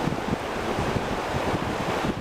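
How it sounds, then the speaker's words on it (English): The Lackawaxen River in Wayne County rushing past a snow-lined bank in freezing winter weather, a steady loud wash of water noise with some wind rumble and no voices. "A snow-lined riverbank and some freezing temperatures do not stop the waters from roaring"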